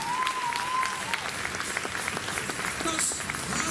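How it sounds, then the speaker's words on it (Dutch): A crowd at a municipal sports awards evening gives a sustained round of applause, dense and even clapping filling the hall throughout, with some voices under it. "Als met een davend applaus naar beneden, Claudia Binnenmars."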